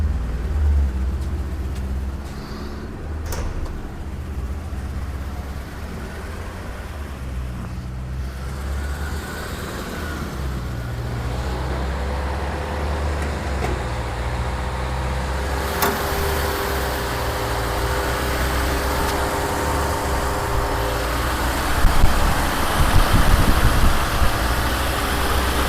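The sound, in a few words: 1979 Mercedes 500 SE V8 engine running on petrol, rear muffler deleted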